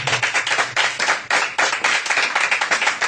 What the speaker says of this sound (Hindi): मैं चाहता हूं कि इस कलाम के लिए जोरदार ताली